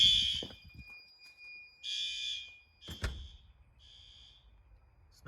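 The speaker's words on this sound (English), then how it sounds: "but that outside horn strobe is good." Fire alarm horn strobe sounding during an alarm test, giving repeated loud high-pitched horn blasts in bursts with gaps between them, plus a brief knock partway through.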